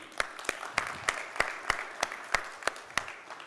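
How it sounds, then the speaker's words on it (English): Applause at a launch event: a steady wash of crowd clapping with sharp, regular louder claps punctuating it roughly every third of a second, moderately close and without talk. "So round of applause to everybody."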